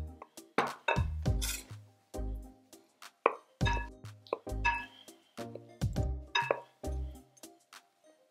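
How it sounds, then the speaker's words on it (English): Cucumber, feta and other Greek salad ingredients tossed together in a bowl, a run of wet squishing, plopping and clinking bursts in uneven rhythm, close and fairly loud, with no talking. "So now I'm gonna mix that all together."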